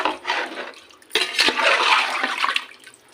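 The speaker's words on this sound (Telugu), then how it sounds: "దీంతో 6 గ్లాసులు వాటర్ పోసుకుంటున్నాను" Water poured from glasses into a cooking pot for chicken biryani, a close, steady gushing rush in two bursts with a short pause between, no talking.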